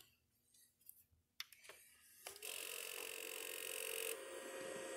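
An old PlayStation 2 console starting up with an internal rattle, with faint clicks first and then a steady, loud whirring mechanical noise that holds for a few seconds before easing slightly.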